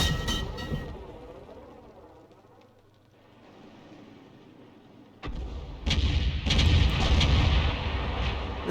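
Artillery shot in a tank video game, heard as a sudden loud boom that hits midway through and then rolls into a long, dense rumble. Quieter game ambience comes before it.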